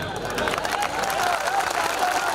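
Audience applause at a Hindi comedy poetry gathering (hasya kavi sammelan), a steady wash of many hands clapping throughout, with crowd murmur underneath.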